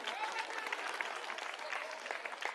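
A crowd at an outdoor political rally applauds, a continuous spread of clapping, fairly distant and moderately loud, with a voice faintly mixed in.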